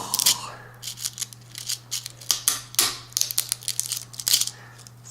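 A hard, tough rattlesnake tail rattle is cut in half with a blade, giving a run of sharp, crunchy snips and cracks up close, with brief faint voices nearby.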